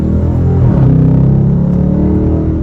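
A 2022 Dodge Charger R/T's V8 engine roars as the car accelerates, its pitch climbing and dropping sharply with a quick gear change partway through.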